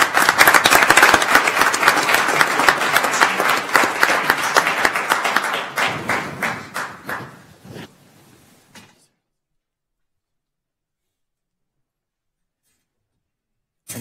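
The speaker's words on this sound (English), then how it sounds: "Round of applause, please" Dense applause from the audience at a county commissioners court meeting, loud and sustained at first, then thinning to a few scattered claps and dying out into silence.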